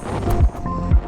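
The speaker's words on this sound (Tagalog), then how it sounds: "Lakas ng hangin." Strong wind gusts buffet the microphone outdoors at a Tagaytay hotel, two loud low-frequency blasts rising and falling over a steady rushing wind bed.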